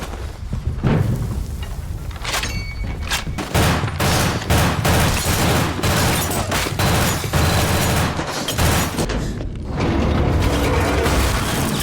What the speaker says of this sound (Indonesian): yang langsung menyerbu kediaman dari Walker, langsung menghujani peluru.